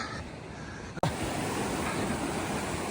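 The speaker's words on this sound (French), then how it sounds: "on entend les vagues là" Ocean surf on a beach at rising tide during an 85 km trail ultramarathon in Puglia, a steady broadband wash of waves close by with a brief dropout and thump partway through.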